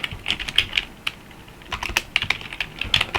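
Someone types on a computer keyboard with close, crisp key clicks in short irregular bursts and brief pauses between them, with no talking.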